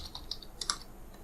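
A password is typed on a computer keyboard as a short, quiet run of several crisp key clicks, close by and alone.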